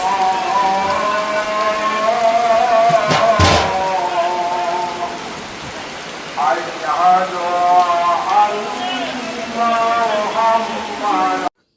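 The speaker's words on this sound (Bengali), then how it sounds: "তো দেখতেই পাচ্ছেন অঝোরে বৃষ্টি পড়ছে" Heavy rain pours down outside a house during a Bangladeshi wedding reception gathering, a dense, loud, continuous hiss with a sharp thump early on and people talking over it.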